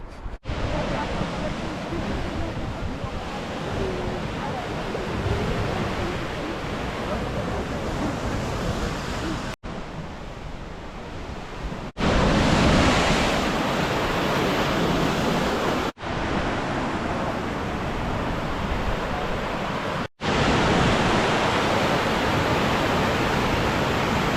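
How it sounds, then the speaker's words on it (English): Continuous roar of lake waves breaking on a shore in Michigan, steady and broadband like ocean surf, with brief cuts in between; no talking. "I can actually hear the lake. It is a lake, even though it sounds like the ocean."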